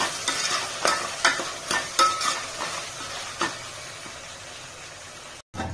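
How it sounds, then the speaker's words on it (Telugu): Vegetables for veg biryani sizzle in a pan while a utensil stirs them, giving repeated scraping strokes at an irregular rhythm over a constant close frying hiss. "కలుపుకుందాం ఒకసారి. ఇంకొకసారి"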